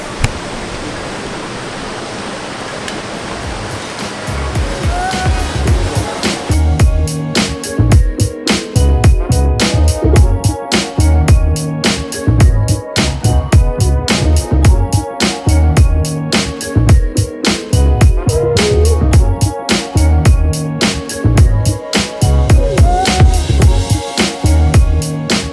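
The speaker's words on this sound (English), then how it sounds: "So we made it to the waterfall and it's absolutely insane." A powerful waterfall roars in a loud, steady rush of white water that swells after the first few seconds and continues without a break. No voices are heard over it.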